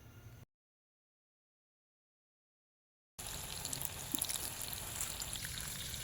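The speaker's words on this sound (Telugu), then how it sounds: "ఆ తర్వాత మనం ఇందాక మ్యారినేట్ చేసుకున్న చికెన్ని ఫ్రై చేసేయండి." Marinated chicken frying in oil: a steady, fairly faint sizzle and crackle with a brief dead-silent gap near the start, then constant popping spatter.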